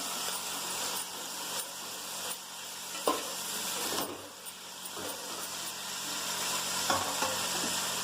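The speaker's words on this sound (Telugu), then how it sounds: "ఉల్లిపాయ అయితే ఫ్రై అయింది" Steady sizzling of onions frying in a pan, with occasional scraping stirs; no voices.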